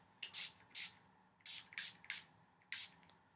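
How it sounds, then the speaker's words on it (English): Urban Decay All-Nighter setting spray misted onto a makeup brush in six short, crisp pump bursts at an uneven pace, close and fairly quiet, with no voices. "I'm going to spray both sides."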